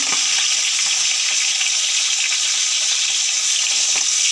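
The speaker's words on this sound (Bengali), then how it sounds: "এই মাছগুলো লাল লাল করে ভেজে নেবো" Pabda fish frying in hot oil in a wok, a loud, dense, continuous sizzle and crackle with scattered sharper pops spread throughout, close and steady, with nobody speaking.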